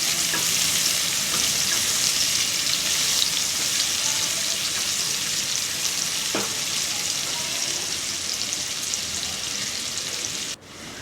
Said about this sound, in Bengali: পেঁয়াজটা আমার খুব সুন্দর ভাজা হয়ে গেছে।